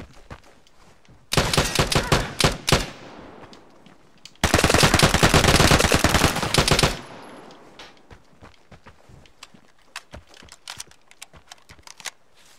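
Automatic gunfire in the online shooter Vigor, two long loud bursts of rapid rounds separated by a short pause, followed by quieter scattered shots and faint movement sounds.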